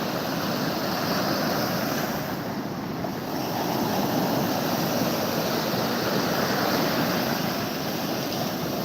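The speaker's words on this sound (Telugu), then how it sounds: "నిమిషం కూడా అలలు ఆగ ఆగకుండా ఎగిసి పడుతూ ఉన్నాయి" Breaking waves surge without pause at RK Beach, Vizag, a dense unbroken roar of surf with wind buffeting the microphone, near and loud throughout, swelling slightly after a brief lull.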